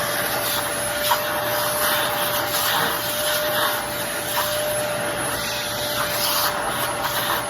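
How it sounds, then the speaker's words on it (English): A vacuum cleaner runs steadily and loudly up close with a constant whine, used to suck hair and debris out of the insides of thrifted shoes, with no talking. "I use a vacuum to clean the insides of my shoes"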